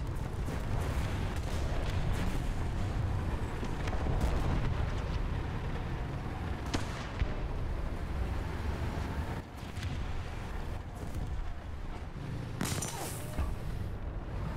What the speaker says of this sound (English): Artillery hit.